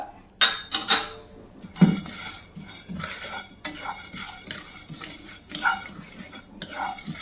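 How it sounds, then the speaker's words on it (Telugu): Fenugreek seeds frying in a pan for sambar powder, stirred with a metal spoon, with sharp irregular scraping and clinking of utensil against the pan over a faint sizzle, close up. "ఇప్పుడు మెంతులు ఇవి కొంచెం ఫ్రై అవ్వాలి"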